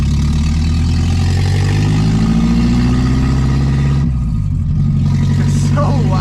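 A Nissan 300ZX fitted with a KA24DE engine drives along, its loud steady drone holding throughout and dipping briefly near the end, with a voice speaking over it.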